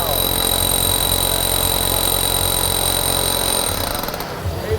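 A Metabo demolition hammer with a magnesium gear housing pounds continuously and loudly up close, with a rapid hammering rattle and high whine that tapers off near the end, set against the noise of a busy trade show floor.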